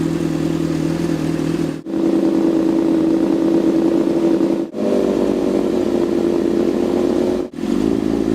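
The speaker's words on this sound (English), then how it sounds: "see how the idle just smoothed out?" Rebuilt 2008 Honda CBR1000RR street fighter engine idling loud and close, a steady smooth drone with three brief dropouts.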